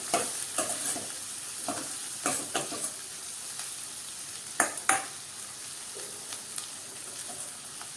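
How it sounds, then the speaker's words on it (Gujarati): Chopped onions sauté in hot oil in a pan for a parval curry, a soft continuous sizzle punctuated by several sharp scrapes and clinks of a stirring spoon against the pan. "અને ત્યાર પછી સમારેલી ડુંગળીને આપણે થોડી સાંતળી લઈએ."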